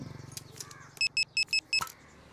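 A car caught in traffic, a low engine rumble under a quick run of five short, sharp beeps, close and brief.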